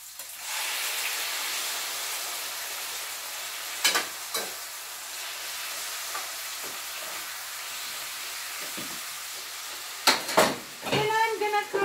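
Pork sizzles in a hot pan for pork menudo, a steady frying hiss that runs throughout, with a few metal clanks and scrapes of stirring near the end.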